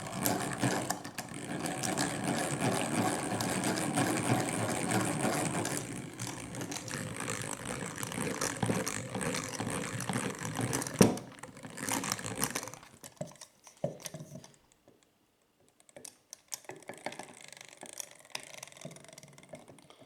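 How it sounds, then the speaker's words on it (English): A hand-cranked butter churn turns cream into butter with a steady whirring, rattling mechanical churn for about thirteen seconds, close and continuous, before it stops and only sparse knocks and handling sounds remain. "you just keep spinning it until it turns to butter"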